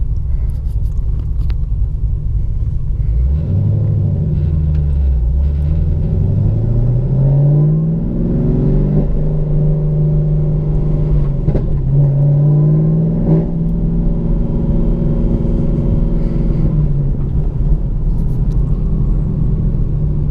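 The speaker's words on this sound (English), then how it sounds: "Okay, so you'll see as I take off here, I'm not going to be able to go very fast in first, second, or third gear" Chevrolet Camaro ZL1 with a valet tune pulling away in first gear, a deep loud engine rumble rising in pitch as it accelerates, then easing and rising again through the gears, heard from inside the car with no talk.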